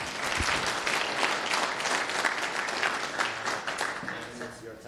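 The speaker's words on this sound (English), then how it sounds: "Round of applause for him too, please." An audience at a Go programming lightning-talk meetup gives a round of applause: several seconds of lively, even clapping from a roomful of people, easing slightly as it ends.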